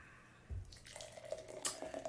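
Upstate Brewing IPW India-style imperial wheat pale ale poured from a can, a quiet stream of liquid with a faint thud, a trickle and small fizzy splashes, close by and without talk.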